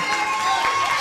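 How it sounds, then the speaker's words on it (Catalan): A school audience at a primary class's end-of-year play of the Iliad gives a brief burst of applause and cheering, a dense, lively wash of clapping and young voices. "Un aplaudiment, si sí, s'ho mereixen."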